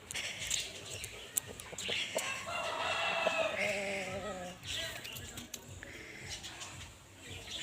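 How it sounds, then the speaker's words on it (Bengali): Chickens at a rural Bangladeshi home, one tethered, make clucking and fowl calls amid a busy, noisy yard backdrop, with a brief bleat-like sound mid-clip and no clear speech. "এই যে একটা মুরগি,"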